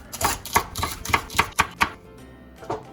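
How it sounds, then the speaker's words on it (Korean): A knife chops cheongyang chili peppers into large pieces on a cutting board while braised spicy chicken is prepared, giving about seven crisp, evenly spaced chops, then a pause and one final cut, close and clear. "청양고추는 조금 큼지막하게 썰어 넣어주면 됩니다"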